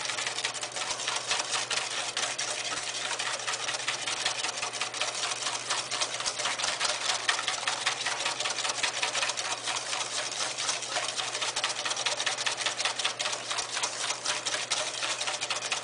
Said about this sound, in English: Notice how I'm using the whisk.